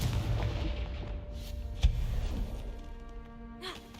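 A Confringo blast spell fired in a magic video game lands as a single sharp boom about halfway through, over a dense, rumbling backdrop of game sound.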